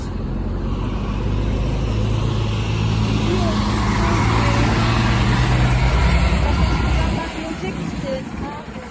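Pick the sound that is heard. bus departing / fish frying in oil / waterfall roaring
bus departing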